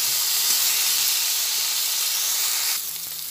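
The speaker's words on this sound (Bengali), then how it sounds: "সব মিশিয়ে একসঙ্গে তেলের মধ্যে এটা ভেজে নিচ্ছি" Chopped tomato and a cabbage kofta mixture fry in hot oil, giving a steady bright sizzle and hiss that runs without a break and softens a little near the end.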